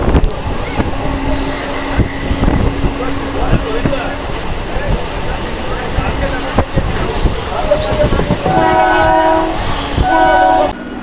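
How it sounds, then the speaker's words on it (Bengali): A local train arrives at Krishnanagar City Junction railway station in West Bengal, with loud rumbling wheels and clatter close by. Horn blasts sound in bursts near the end. "আমাদের ট্রেন এখন এসে গেছে কৃষ্ণনগর সিটি জাংশন রেলওয়ে স্টেশনে।"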